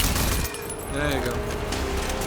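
Assault rifle fire in a video game sounds as loud, rapid bursts of gunshots, with heavy impacts at the start and the shooting carrying on under a voice talking.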